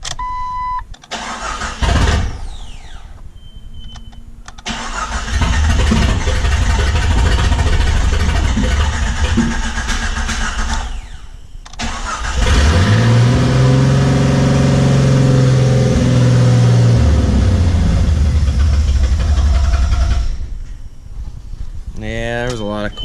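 A Jeep that sat unused for two years cranks and fires up, then revs loudly in long surges with a rough idle between, close by, while people talk over the engine noise; the engine is leaking coolant.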